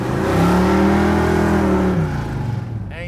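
A 1966 Dodge Coronet with a big 440 V8 revs hard through open exhaust dumps, a loud, close, sustained roar that holds steady for about two seconds and then drops back toward a lumpy idle.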